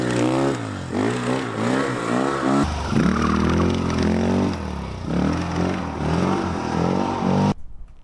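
A KTM 450 stunt motorcycle engine revs hard while drifting, its pitch surging and dipping in repeated loud bursts, holding a steady high drone midway before cutting off abruptly at the end.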